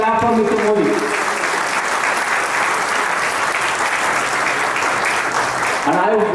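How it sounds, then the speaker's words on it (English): Conference audience applauding for India and its Prime Minister, sustained dense clapping from a large crowd that holds steady for several seconds, with a voice briefly heard at the start and end. "I think we should clap for India, clap for Mr. Modi."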